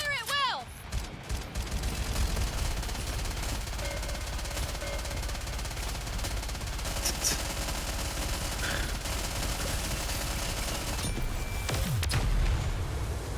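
Gunfire in the video game Goddess of Victory: NIKKE, sustained machine-gun bursts and rattling shots with occasional booming impacts, loud and dense. Game voices and music play over the shooting.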